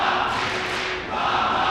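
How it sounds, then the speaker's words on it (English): At an IEM Katowice StarCraft II esports playoff match, a large arena crowd roars steadily for MaNa, forming a dense, loud wall of cheering that dips briefly before swelling again. "and this crowd is going crazy"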